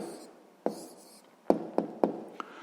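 A pen writing down an answer to a sixth-grade math percentage problem, heard as a few sharp taps and short scratchy strokes spaced across a quiet background, close and fairly clear.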